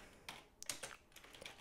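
Computer keyboard keys tapped in a short, quick burst of light, close clicks while a terminal command is entered, quiet and unaccompanied.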